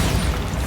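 A Bombarda blasting spell goes off in Hogwarts Legacy, a sustained heavy low rumble and boom filling the whole short moment at steady loudness.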